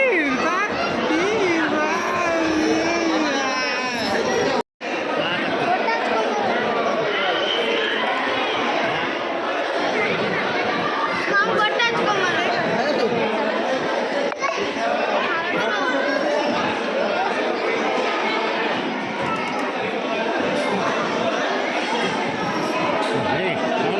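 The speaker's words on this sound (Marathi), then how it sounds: "गर्दी खूप आहे" A large crowd chattering at a busy temple darshan, many overlapping voices in a dense, continuous babble with children's voices among them and a brief cut in the middle.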